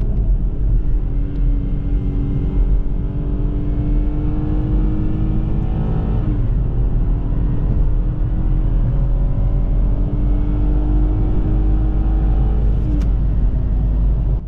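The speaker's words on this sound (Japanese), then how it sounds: "マニュアルレンジのまま踏み続けると、自動でシフトアップをしてくれるんですよ" A BMW 118i (F20) pulls hard in manual mode, its engine loud and steady as the pitch climbs, drops sharply at an automatic upshift and climbs again, with a second shift near the end, all under continuous road rumble.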